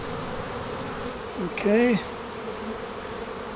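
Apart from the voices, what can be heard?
bees buzzing around honey boxes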